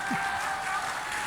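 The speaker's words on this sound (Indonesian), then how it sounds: "Tepuk tangan." A brief burst of audience applause at a public talk, a dense, even patter of many hands clapping at once, fairly close and uninterrupted.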